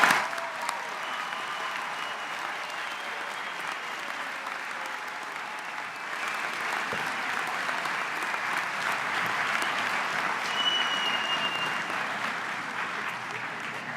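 Sustained audience applause fills a graduation commencement hall for a University of Toledo College of Engineering ceremony, a steady dense wash of clapping from a large crowd lasting throughout with no talk.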